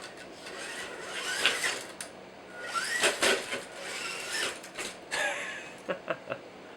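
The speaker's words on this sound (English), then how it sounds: "Not sure my steering servo is right. Sounds kind of funny." The steering servo on an RC4WD Chevy Blazer Trailfinder 2 crawler is misbehaving, giving close, uneven bursts of whirring and creaking gear noise that end in a few quick clicks.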